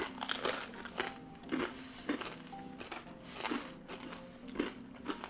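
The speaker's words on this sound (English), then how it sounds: "I love that crunch on the outside" Repeated bites into crusty Tuscan Italian bread, crisp crackling crunches coming at a steady pace, about one per second, close and fairly quiet with no talk.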